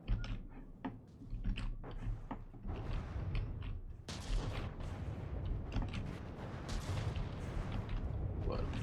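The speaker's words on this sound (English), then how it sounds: "The firing has slowed down on the Fenrir." Ship weapons fire in a Space Engineers battle between the Fenrir and the Ragnarok, a busy stream of crackling impacts and mechanical rattling that thickens into dense continuous fire partway through, with a voice talking over it.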